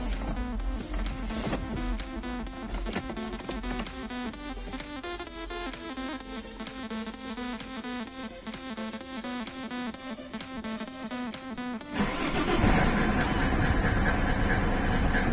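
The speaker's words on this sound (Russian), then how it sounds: "Заведу вам двигатель. Послушайте, как он работает." A Mercedes W124 engine starts and runs with a rhythmic mechanical chatter and ticking at idle, fairly close, then a louder broadband rush takes over near the end.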